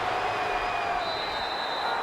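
A stadium crowd murmurs in a steady, moderately loud roar during a video game American football match, with faint whistling tones above it and no clear cheer peaks.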